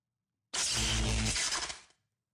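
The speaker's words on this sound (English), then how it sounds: "That's the sound of the shock collar." A single loud electric buzz from a dog shock collar activating, lasting about a second and a half, harsh and broadband with a low hum underneath, then silence.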